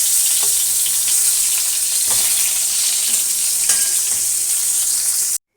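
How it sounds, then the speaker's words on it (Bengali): Pointed gourd and brinjal slices fry in a pan of oil, a close, loud, steady sizzle with small pops that runs unbroken and then cuts off abruptly. "এদিকে পটল ভাজা আর বেগুন ভাজা চাপিয়েছি।"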